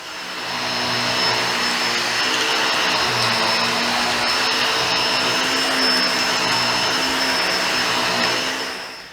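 A Bissell Pet Hair Eraser Turbo Plus vacuum cleaner runs steadily on carpet with a loud, continuous motor whine and roar, its tone wavering slightly as it works, nearby and with no one speaking.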